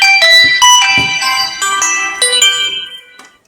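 A phone ringtone rings loudly and close, playing a bright repeating melodic tone pattern for several seconds before fading out at the end.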